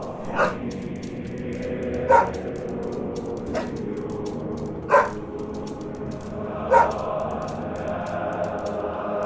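Dog barks in the horror game Helltown, five separate sharp barks spaced about every second and a half, each standing out over a steady background drone of ambient game noise.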